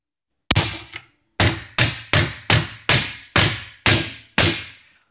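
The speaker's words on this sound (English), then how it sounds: "All you do is take a hammer and just" A hammer strikes a metal part held in a vise grip on equipment in freezing cold, eight loud ringing clangs in a fairly even rhythm, each followed by a brief metallic decay.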